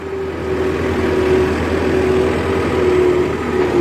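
A farm tractor, parked in a field during potassium chloride spreading, idles steadily and loudly up close, a continuous low engine drone with a faint whine.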